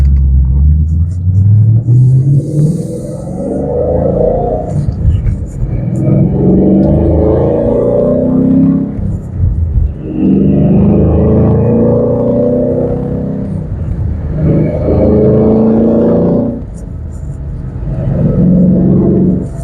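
A 2013 Ford Mustang GT 5.0 V8 with an axle-back exhaust rumbles and rises in repeated surges while driving, a deep exhaust note swelling and easing, under steady talking.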